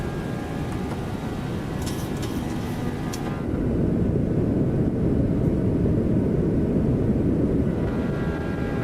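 Boeing 737-7 jet engines roaring steadily after takeoff in the X-Plane 12 simulator, a loud continuous broadband rumble that swells slightly and holds, with a few faint clicks early on and no talk.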